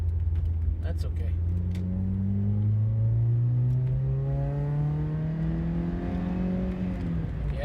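A 1987 Toyota Corolla FX16 accelerates, its engine note rising steadily in a loud, continuous drone as a faint exhaust rattle runs beneath it.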